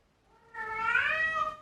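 A pet cat lets out a single long, rising-and-falling meow up close after a brief quiet moment, begging to go outdoors; no speech.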